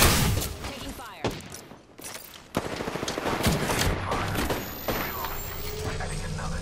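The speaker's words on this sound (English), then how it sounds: "Taking fire." Rapid bursts of video game gunfire crackle through a busy, noisy mix during a battle sequence, with sharp shot transients and sustained rattling, under occasional speech.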